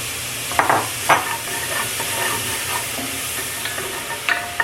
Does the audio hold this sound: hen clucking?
no